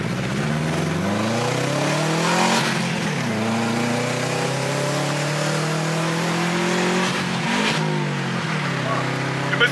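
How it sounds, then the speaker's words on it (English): A Subaru accelerates hard with a missed gear shift, the engine note climbing in a strong rising whine, dropping, then climbing again, close and loud, with voices talking over it. "You missed the gear"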